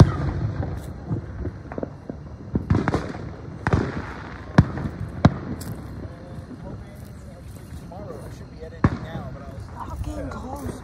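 Fireworks burst outdoors as a series of sharp, loud booms and cracks at irregular intervals, some near and some more distant, while people talk and exclaim between the blasts.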